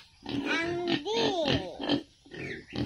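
Pig on a farm makes several loud, close, throaty grunts and squeals in short bursts, with pauses between calls.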